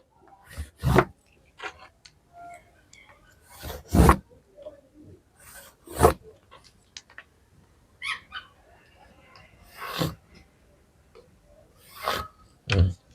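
Lines are marked onto fabric while a kameez is being cut. Short, scratchy rubbing strokes come close and clear at irregular intervals of a second or two, with quiet pauses between them.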